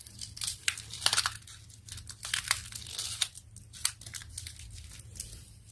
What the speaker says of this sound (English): Now you're going to wrap this paper towards yourself